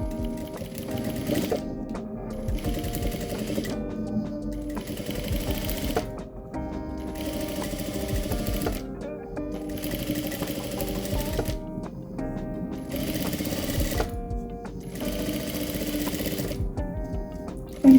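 A sewing machine stitches a half-moon cosmetic bag in repeated bursts of steady, close mechanical whirring separated by short pauses, with no talk.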